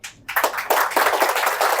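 An audience claps to cheer on an Indian Idol contestant singer in a newsroom. A dense, steady patter of many hands starts after a short quiet moment and keeps going.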